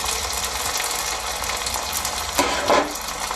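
Garlic fries in hot oil in a wok, making a steady close sizzle, with a louder scraping stir near the end.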